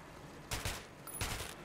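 Gunfire in Metro 2033 Redux while shooting at rats: two separate bursts of rapid shots, each about a quarter second long, cracking out over a quiet background.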